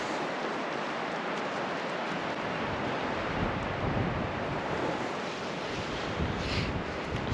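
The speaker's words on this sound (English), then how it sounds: "It's freezing, it's windy," Strong, freezing mountaintop wind in Montana roars steadily against the microphone, a broad rushing noise with gusts swelling and easing throughout.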